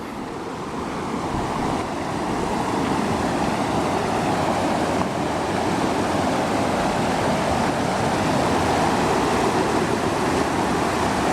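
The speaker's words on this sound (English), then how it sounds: "found a waterfall." A steady, full roar of rushing water, unbroken and fairly loud from start to finish, like a waterfall heard up close, in the Black Mountains near Mt. Mitchell.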